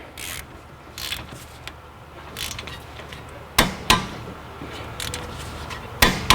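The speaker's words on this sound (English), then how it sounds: "So now we're gonna torque these bolts here." Torque wrench tightening brake caliper bolts on a Hyundai Elantra, set to 73 foot-pounds: a series of sharp metallic clicks and ratcheting scrapes at close range, with quiet pauses between.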